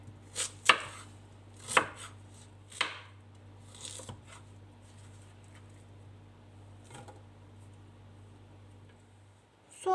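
Several sharp knife chops through onions on a cutting board, close and crisp, spaced irregularly and fading to a few lighter taps, no voices.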